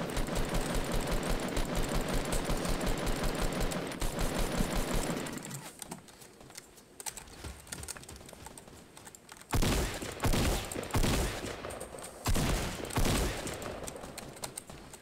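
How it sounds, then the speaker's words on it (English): Rapid bursts of rifle gunfire from a Fortnite match, a dense run of rapid-fire shots for the first few seconds, then scattered loud bursts later amid game noise. "I think I'm just gonna spam off this green rifle at the next dude I see."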